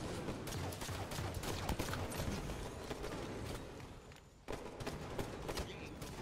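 Dense gunfire from the Halo 5 video game crackles in rapid, irregular bursts that fill the whole stretch, with a brief drop in the noise near the end before it resumes.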